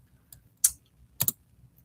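A few quick keystrokes tap on a computer keyboard, three sparse clicks with a close double tap at the end, in a quiet room without talk.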